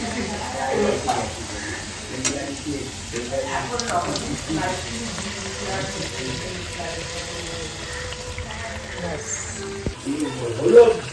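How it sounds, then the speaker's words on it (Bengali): Luchi, puffed flatbread, frying in hot oil gives a sizzling crackle beneath people chatting nearby, with a few louder bursts of bubbling. "এখন লুচি ভাজা হবে সকালের ব্রেকফাস্ট"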